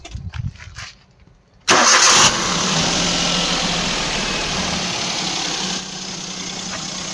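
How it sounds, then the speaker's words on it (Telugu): A 2013–2015 Maruti Suzuki WagonR LXi with a new battery cranks and fires up close by after some faint handling noise, then settles into a steady, fairly quiet idle that continues to the end. "ఇంజన్ సౌండ్ కూడా చూసుకోవచ్చు"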